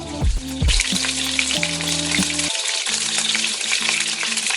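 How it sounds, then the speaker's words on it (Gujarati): Gujarati bhajiya fritters frying in hot oil, a steady loud crackling sizzle running throughout with a few bubbling pops and no voices. "તમે ભજીયા ફ્રાય કરતા પહેલા બેટરનું ટીપું તમારે તેલમાં પાડીને ચેક કરવાનું છે."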